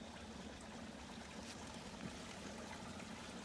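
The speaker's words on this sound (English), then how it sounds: "You can see the water running down under the tree here in 3 or 4 different spots." Water trickles steadily beneath a tree in cold, marshy woods, a faint, continuous low gurgle with no voices.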